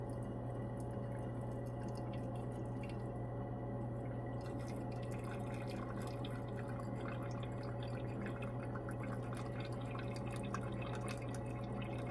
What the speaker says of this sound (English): just pour this acid off